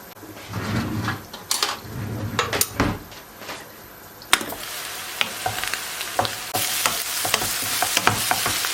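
Butter melting in a pan with a rising sizzle, interrupted early by clattering of a utensil against the pan and a few sharp knocks, then a steadier frying hiss with scattered clicks.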